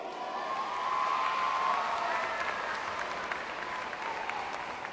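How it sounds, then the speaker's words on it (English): An audience at a guest event gives a steady round of applause, a dense, even wash of many hands clapping that holds for several seconds at moderate loudness, with no voices standing out. "Please give her a round of applause."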